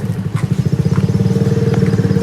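A motorcycle engine runs steadily nearby, a loud even low thrum with a quick regular pulse and no talk over it.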